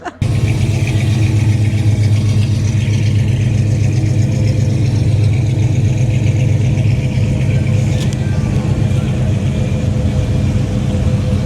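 Trucks cruise around the upper parking lot at the Grand National F100 truck show at the Le Conte Centre in Pigeon Forge, Tennessee, a steady mid-range engine rumble with occasional revving, loud and continuous throughout without talk.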